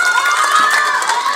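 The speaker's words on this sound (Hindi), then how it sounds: "और एक बार जोरदार ताली से आप लोग स्वागत करें।" An audience at a coaching academy's opening ceremony in Raksiya, Runni Saidpur, gives a loud, continuous burst of clapping and cheering that fills the whole moment without a break.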